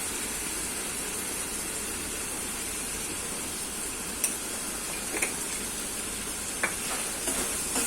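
Spices, fenugreek leaves and gram flour sauté in a pan with a steady, close sizzle and hiss. A few sharp ticks of a spoon stirring against the pan come in the second half, and no one talks.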